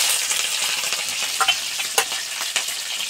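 Panch phoron and green chillies sizzle in hot oil, a steady close crackling hiss with a few louder pops and spits rising above it, no voices.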